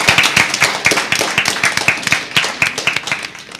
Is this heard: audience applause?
yes